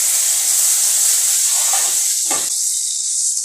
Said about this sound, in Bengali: তারপরে আমরা আলু ভাজছি।